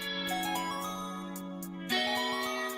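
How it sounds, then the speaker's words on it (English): A mobile phone ringing nearby with a bright electronic melody of steady tones and repeating pulses, the tune shifting pitch partway through and continuing alone. "my son's phone was going off"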